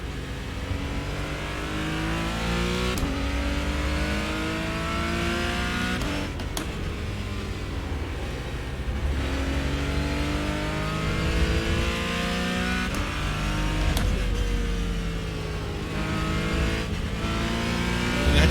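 A race car engine in a sim racing video game revs and shifts repeatedly, loud and continuous, with rising gear pulls broken by quick cuts and throttle blips and no talking.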